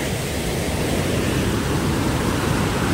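Water pours steadily at Kaigal waterfall, a loud, unbroken broadband rush that stays constant from close by with no voices.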